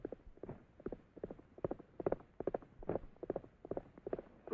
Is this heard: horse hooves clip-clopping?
yes